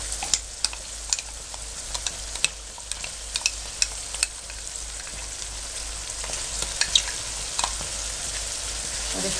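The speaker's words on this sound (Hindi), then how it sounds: "अब मटर फ्राई हो रहे हैं।" Green peas fry in a pan with fish masala paste, giving a steady, close sizzle broken by sharp crackles and pops as the mixture is stirred; no one speaks.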